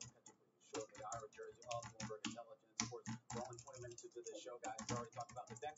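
Typing an email address on a computer keyboard: a quick irregular run of close, crisp key clicks filling the whole stretch, with a voice speaking over the tapping.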